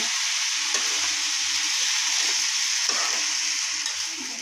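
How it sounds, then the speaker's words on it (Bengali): Washed rice fries with browned chopped onion in a pan, giving a loud, steady sizzle with a few soft stirring knocks, close up and uninterrupted. "এখন এই যে দিয়ে দিচ্ছি, সুন্দরভাবে একটু ভেজে নিয়ে রাইস কুকারে দিব"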